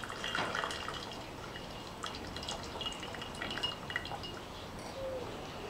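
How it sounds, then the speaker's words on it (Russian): Water trickles and drips while gold sediment recovered from computer parts is rinsed in a vessel, a faint, close, irregular splashing and dripping with small glassy clinks, no voices. "Промываем водой и смотрим."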